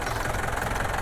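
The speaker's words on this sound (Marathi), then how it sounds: "आता त्या लोकांनी तिकडनं लाकडं आणून आता इथे आणतात ट्रॅक्टरने" A tractor engine that has been hauling wood runs with a steady low rumble and an even knocking throb, close and continuous.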